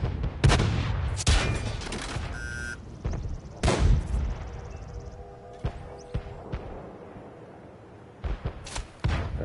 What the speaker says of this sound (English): somebody sees me and shooting me